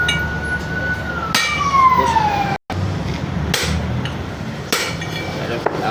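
A fire truck siren wails past with a falling pitch sweep, loud over rumbling street noise, then fades out as traffic continues.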